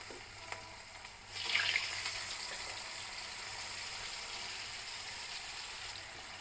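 Potatoes fry in a pan with a steady, close sizzle that swells after a faint tap early on and then holds an even hiss to the end.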